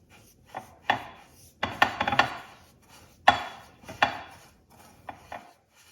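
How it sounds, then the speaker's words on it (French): Semolina dough with salt worked in a bowl, giving scattered scraping and rubbing strokes in irregular bursts, close and moderately loud with short pauses between them. "je vais remuer"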